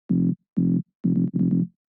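A tech house bass line runs through an overdrive distortion pedal, giving four punchy, gritty low notes in a short rhythmic pattern with the last two close together, loud and alone.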